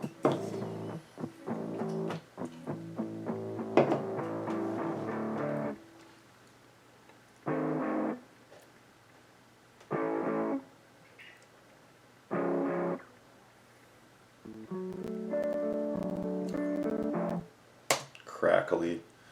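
A second electric guitar chugs power chords within a rock song mix: a dense opening stretch, then short chord bursts separated by near-silent gaps, and a busier passage toward the end.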